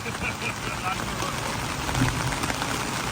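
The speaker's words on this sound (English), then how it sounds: "Here's the rain." Steady rain falls over a karting track, a continuous dense hiss of drops spread evenly and fairly loud throughout.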